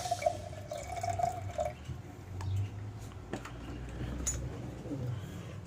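Soft intermittent drips and trickling water from a tap, with faint background noise and a low hum throughout.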